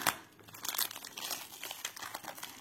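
A plastic packaging pouch being opened, faint crinkling and crackling plastic close by for a few seconds, no talking.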